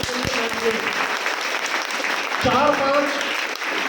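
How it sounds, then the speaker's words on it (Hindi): A hall audience claps loudly at a closing motivational speech, a dense wash of applause throughout, with a voice briefly speaking over it near the start and again past the midpoint. "मैं चाहता हूँ एक बार जोरदार तालियां बजा दूं।"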